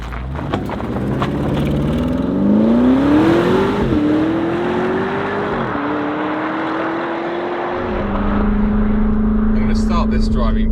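A Porsche Cayenne Turbo GT's 640 hp engine hums and rises in pitch as it accelerates through gear changes, steady road noise throughout, heard from inside the cabin.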